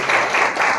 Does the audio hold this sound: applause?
yes